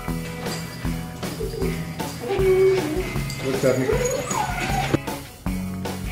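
Dogs whimpering and yipping with excitement before a family walk, a close, restless sound with brief yips under talk and laughter from people nearby.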